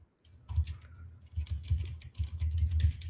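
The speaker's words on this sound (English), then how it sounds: "Listen to him typing on his mechanical keyboard" Rapid clicky keystrokes on a mechanical keyboard, irregular bursts of tapping close by, steady and fairly quiet with no talking.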